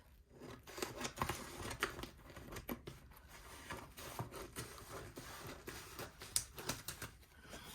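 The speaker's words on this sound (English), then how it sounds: "I'm going to take my scissors in a minute and trim this over here" Scissors trim contact paper on sheets of oracle cards with repeated crisp snips and crinkly paper rustles, close and steady at low volume, and no talking.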